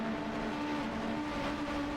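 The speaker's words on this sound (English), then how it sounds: "Several cars coming down pit lane here for the first time." Race cars in a Champ Car Challenger Series race at the AAA 300 run down pit lane. A steady engine drone with a sustained whine carries through the whole stretch, and no single pass stands out.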